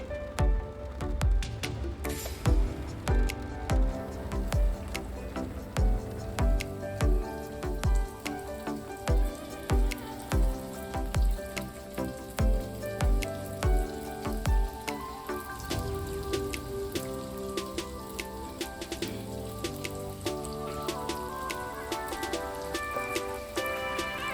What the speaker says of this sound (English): I will fry in a hot oil but on a low heat for the inside to fry very well